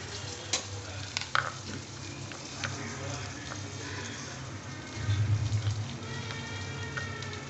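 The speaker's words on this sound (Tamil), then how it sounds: "புதினா கொத்தமல்லி தழை சேர்த்துக்கோங்க நல்லா ஃப்ளேவர் கொடுக்கும் வெங்காயத்து கூட சேர்த்து வதக்குனாக்கா" Onions sautéing in a pan with mint and coriander leaves for samba rice chicken biryani, giving a steady close sizzle with occasional stirring scrapes and clicks over a low hum.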